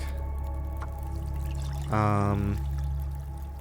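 Water being made and poured in The Long Dark, a short gurgling pour rising over a low steady hum of the game's ambience.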